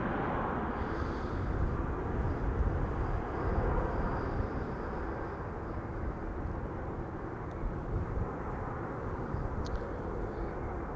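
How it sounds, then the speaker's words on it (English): A KLM airliner, flight 984 from London City, arrives as a distant broadband jet roar. The rumble holds steady and low throughout, with no voices over it. "And that was KLM flight 984 arriving from London City"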